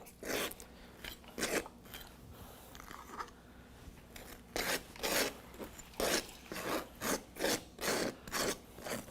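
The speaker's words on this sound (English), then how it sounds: "That is just the knife scraping against the bread." A knife scraping against bread while a sandwich is made with mayo: a quiet, rasping scrape repeated in a steady back-and-forth rhythm, close up, with no talking.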